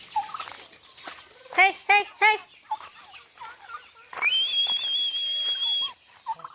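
Turkeys being herded, with a few loud gobbling bursts in a quick cluster and then a long thin whistling call, while a herder shouts short calls to drive them.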